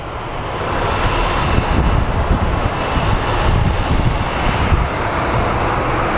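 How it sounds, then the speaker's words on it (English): Airliner departing for Chicago from Phoenix Sky Harbor airport, a loud, steady broadband jet roar filling the whole clip with a sustained rumble and no voices. "So they're lifting off for Chicago"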